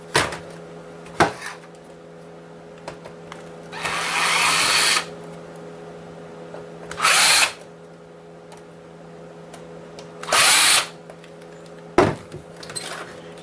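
A power screwdriver whirs in three separate bursts, each about a second or less, while backing out the screws holding the Blu-ray drive inside a game console, with clicks and handling knocks between bursts over a steady low hum.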